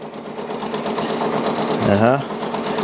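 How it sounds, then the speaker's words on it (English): A Brother Persona PRS 100 embroidery machine stitches with a steady, loud mechanical whir and rapid needle rhythm, heard up close under a person's voice. "Let's keep looking at this machine stitch out."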